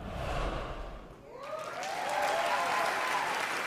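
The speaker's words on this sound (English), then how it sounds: "applauds at his seat" Audience applause at the 29th Screen Actors Guild Awards ceremony, a broad wash of clapping that dips briefly then swells back strong and sustained, with no talk over it.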